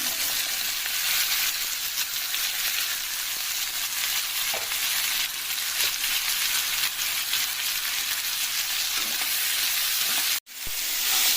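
Bottle gourd pieces sizzle and fry steadily in a pan with tomato, a continuous loud hiss with light stirring, cut off briefly near the end before the frying resumes.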